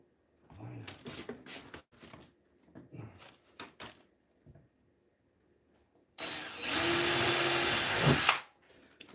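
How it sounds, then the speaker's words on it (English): A power drill boring holes at a Targa Florio track corner, one loud sustained two-second burst near the end, preceded by scattered short clicks, knocks and handling noises. "You drill enough holes, it's bound to hit one of them"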